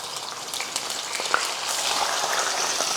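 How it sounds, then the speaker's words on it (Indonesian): Milkfish being fried in hot oil, a steady dense sizzle and crackle with scattered pops holding at moderate level for the whole stretch, no voices. "Lanjut kita akan goreng bandeng sekarang."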